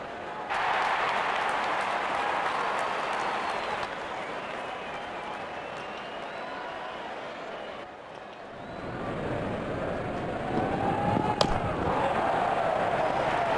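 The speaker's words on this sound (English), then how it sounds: "cheered by a good crowd in." Crowd cheering and applauding at a Bangladesh Premier League T20 cricket match, a broad steady roar filling the stands, swelling again toward the end with a sharp crack partway through, and commentary voices over it.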